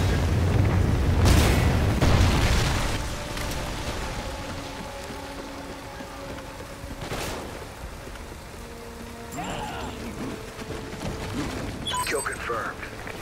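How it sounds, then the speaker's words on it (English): A Trinity rocket strike explodes in Call of Duty: Ghosts with a deep, heavy boom in the first couple of seconds, then fades into a low rumble and scattered battle noise while a voice speaks over it. "Friendly Trinity rocket inbound."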